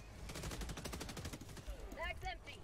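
Rapid bursts of automatic gunfire rattle continuously in the video game Helldivers, with whistling, chirpy electronic effects layered in near the end, like a game soundtrack.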